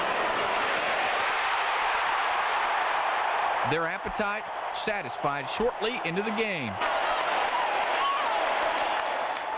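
Football fans in a stadium on game day in Indianapolis keep up a continuous roaring, cheering crowd wash, with a narrator speaking over the middle stretch before the crowd noise carries on alone.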